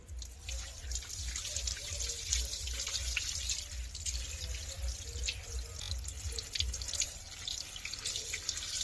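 Chicken leg pieces being rinsed under running tap water at a sink, a steady splashing stream with dripping, trickling sounds throughout, fairly close and moderate in level with no voices.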